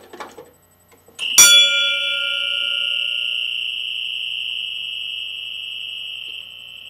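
After a soft tap, a Faraday 1137 electric fire alarm bell running at low power strikes once and settles into a thin, steady, high-pitched whine that drones on at even loudness.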